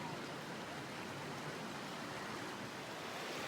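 Mission Creek flowing beside a campsite under a tree, a faint, steady broadband rush of water with no other sounds.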